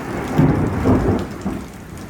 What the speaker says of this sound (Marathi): विजा पण कडक आहे